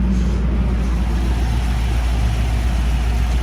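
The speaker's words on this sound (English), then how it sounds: "there's your Ford Y block V8 engine" A 1957 Ford Thunderbird's 312 Y-block V8 idles steadily close by, a deep even rumble with a faint rhythmic lope and no voices over it.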